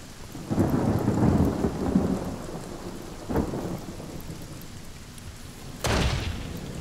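A rain spell in the video game Divinity Original Sin brings a soft hiss of steady rainfall, broken by three rolling thunder rumbles: a long one early, a shorter crack midway and a sharp close clap near the end.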